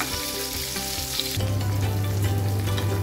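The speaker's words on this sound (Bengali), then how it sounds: "আর একটু ভাজা ভাজা হোক, নাহলে বেগুনের একটা কাঁচা গন্ধ থেকে যাবে।" Eggplant pieces frying in oil in a pan for Bengali doi begun, a steady close sizzle with faint stirring, growing louder partway through as the heat picks up.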